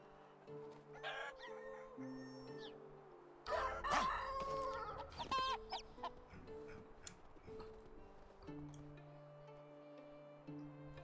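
Chickens in a farmyard in Medieval Dynasty, a flock of hens and chicks clucking and chattering in short bursts, with a rooster crowing once amid the busy, fairly close poultry noise.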